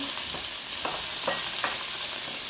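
Tomatoes and onions sauté in a pan for monggo with a continuous loud sizzle, punctuated every half second or so by scraping stirs.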